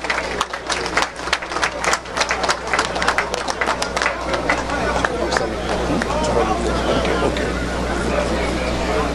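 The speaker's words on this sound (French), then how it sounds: "On applaudit s'il vous plaît." Crowd applause at an official inauguration ceremony in Haiti, with dense clapping that starts in sharp bursts and settles into a steady wash, mixed with crowd chatter throughout.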